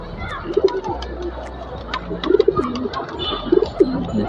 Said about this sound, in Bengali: কবুতর আস্তে আস্তে নিচের দিকে নামছে